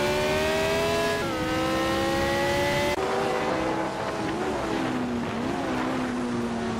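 Video-game race at Brno with a classic 1967 McLaren M5A and rival cars: loud, steady engine drone that drops pitch at gear changes, then a dense roar of several cars revving together, with no talking.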